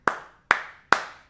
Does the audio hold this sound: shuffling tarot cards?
no